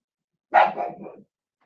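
A dog lets out one short bark followed by a couple of quick trailing yelps, close and clear against silence.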